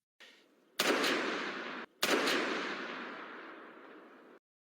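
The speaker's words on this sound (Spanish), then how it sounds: "de repente, se oyeron algunos disparos de advertencia." Two loud, sharp gunshot blasts fired as warning shots, each followed by a long, slowly decaying echo, with no voices.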